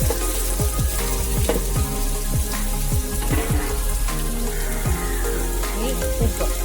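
Onions are added to hot oil with mustard seeds and fennel seeds for a chicken curry, giving a loud, continuous close sizzle scattered with sharp pops and crackles.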